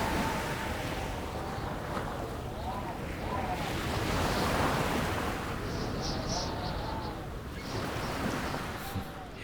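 Sea waves crash and wash onto the shore in a continuous rushing roar with wind buffeting the microphone, while faint voices are heard in the background.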